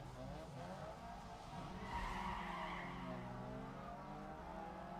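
Tires squeal in a sustained, wavering skid over a revving engine in a driving video game, loud and continuous, with the pitch rising and bending as the Corolla slides.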